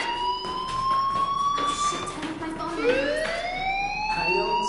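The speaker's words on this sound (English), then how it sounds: "Hey, do you hear that fire alarm?" Fire alarm wailing inside a video game, a loud rising and falling electronic siren tone that sweeps up and down over a noisy background for the whole stretch.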